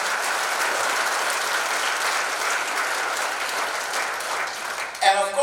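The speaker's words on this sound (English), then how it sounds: "I think we give them a big round of applause." Warm applause from a seated audience at a Rotary district gathering, steady clapping for about five seconds before it breaks off into a nearby voice.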